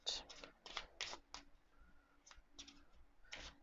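Lenormand cards are shuffled in quick riffling bursts, several crisp rustling runs separated by short pauses, close and fairly quiet.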